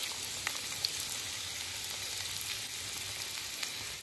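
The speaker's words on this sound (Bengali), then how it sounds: "বন্ধুরা এটা হালকা ভাজা হয়ে গেছে আলু আর পেঁয়াজটা।" Potato and onion frying in oil in a wok, a steady, even sizzle with faint stirring, moderately quiet and close, with no voices.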